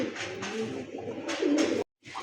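Rajshahi Giribaz and local Rajgolla pigeons coo in low, throaty rolling notes close by, continuing steadily for a short stretch and then breaking off abruptly into a moment of silence before faint sound resumes.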